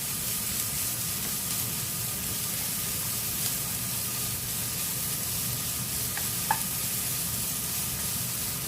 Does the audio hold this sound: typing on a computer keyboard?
no